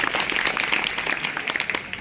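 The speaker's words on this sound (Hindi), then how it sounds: "तालियां।" Students in a school hall clap together in a brief, fairly loud burst of scattered claps.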